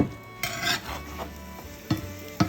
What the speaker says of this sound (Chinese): 直煎到月牙的2面都变金黄，就可以出锅了。